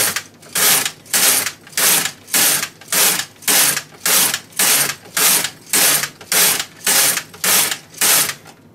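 A knitting machine carriage pushed back and forth across the needle bed to knit rows of a round afghan, a loud steady rhythmic ratcheting whir repeating about every half second, close and alone without any talk.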